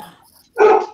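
A single loud, close bark from a dog reacting to a UPS delivery truck outside, cutting in sharply after a brief quiet moment.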